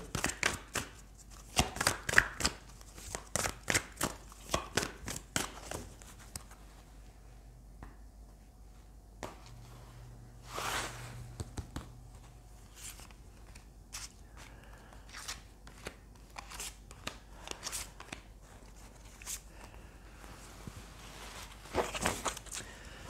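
Tarot cards being shuffled and drawn, with quick crisp riffling flutters and card slaps in irregular bursts, close and fairly quiet, with pauses between handfuls.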